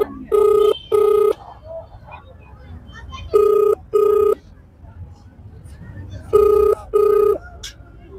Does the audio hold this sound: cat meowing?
no